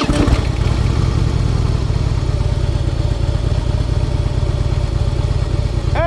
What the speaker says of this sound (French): Je vous présente la moto d'essai du jour